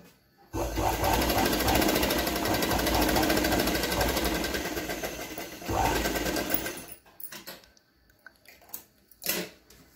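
A sewing machine stitches boxer shorts pieces with a loud, continuous rapid whirring hum for several seconds, then slows and stops, followed by a few short mechanical clicks and bursts.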